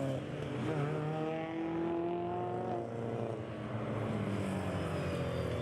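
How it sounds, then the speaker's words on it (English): Race cars, including two Mazdas, rumbling at steady low revs on a warm-up lap behind a Bentley Bentayga pace car at Anglesey's 2024 Race of Remembrance, a continuous layered engine drone heard from a distance, without voices. "two Mazdas as the cars head off on their warming up lap"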